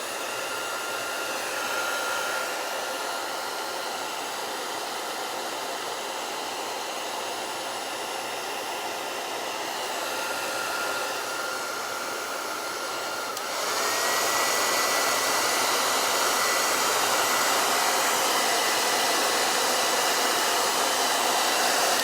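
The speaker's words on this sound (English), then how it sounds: "I'm going to blow dry this for a second." A hair dryer blows steadily and loudly for a long stretch, a constant whooshing roar that shifts slightly brighter partway through, with no talking over it.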